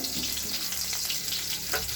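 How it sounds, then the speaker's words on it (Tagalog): Garlic and onion sizzle and crackle steadily in hot oil in a pan, a close, continuous frying hiss with small pops and faint stirring scrapes. "Lagay ko na po yung bawang. Hintayin ko din po maging golden brown yung bawang"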